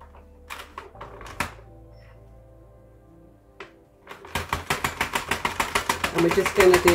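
A Sentro or Addi knitting machine cranks rows of waste yarn in a fast, regular clatter of clicks that starts partway in and runs close and loud to the end, after a speaking voice and a few handling taps.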